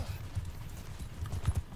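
Horse hooves clip-clop in a video game, a quiet, uneven run of soft low thuds heard at a distance over faint background noise.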